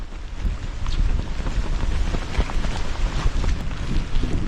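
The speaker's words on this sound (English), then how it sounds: "It's windy." Strong wind buffets the microphone in steady low roaring gusts, loud and close, with no one speaking.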